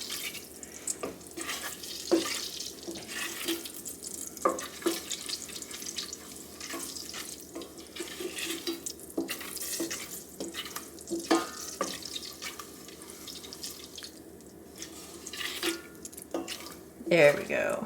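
Butter sizzles and crackles in a pan while it is stirred and browned for brown butter shortbread, a steady, fairly quiet frying hiss with scraping and dripping sounds throughout.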